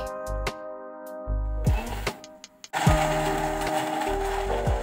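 Kitchen blender whirring as it purees juice ingredients with pineapple peel tea, starting and stopping in short bursts before a longer steady run, loud and close with no talk.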